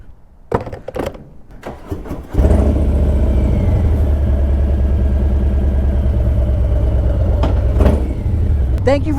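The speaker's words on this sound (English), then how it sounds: "It's not that I need to rev when I'm pulling in the clutch." A Harley-Davidson Low Rider S motorcycle engine blips a few quick revs, then settles into a loud, sustained throbbing rumble near the microphone, rising slightly near the end.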